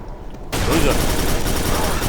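Rapid automatic gunfire in the video game Quake 4, a dense, sustained burst of shots that starts abruptly and continues loud and continuous, with a voice speaking beneath it.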